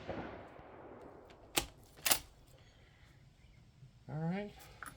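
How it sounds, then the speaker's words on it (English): Two sharp rifle shots from a Mossberg Patriot Predator fitted with an EC Tuner muzzle brake, fired about half a second apart at a range, each a loud crack with a short tail, followed later by a brief voice. "I'm going to take 2 more to make a 5-shot group at position 6"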